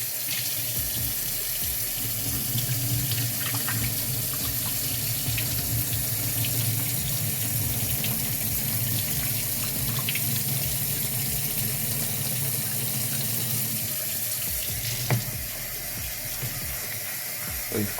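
Tap water pours steadily into a kitchen sink as potatoes are rinsed a second time, a loud continuous splashing hiss with a brief clatter near the end, no voices.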